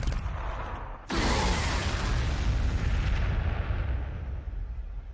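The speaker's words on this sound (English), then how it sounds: "let's throw some frag here" Frag grenade explosions in Warhammer 40,000: Sanctus Reach, a Space Wolves battle: a sudden loud blast erupts after a low rumbling lead-in, then rolls on as a dense, sustained roar of detonations and debris.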